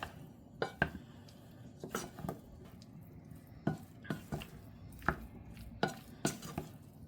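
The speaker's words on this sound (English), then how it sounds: "A couple tablespoons of butter. We're going to put that in. And we're going to stir them around." Potatoes tossed with a couple tablespoons of butter in a pan, with a spoon scraping and knocking against the pan in an irregular rhythm of clicks over a faint background sizzle. The sound is close and fairly quiet.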